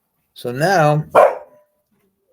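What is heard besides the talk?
dog barking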